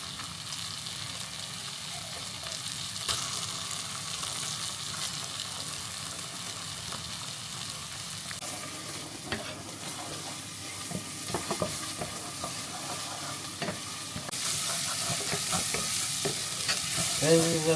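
Ginger garlic paste frying in a pot for Cape Malay curry, a steady close sizzle with scraping stirs throughout that gets louder and brighter toward the end.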